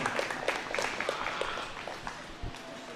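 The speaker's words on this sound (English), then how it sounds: "Please give her a round of applause" An audience at a county livestock show claps for the junior 4-H showmanship winner, a steady patter of hands in a roomy space with a faint murmur of voices underneath.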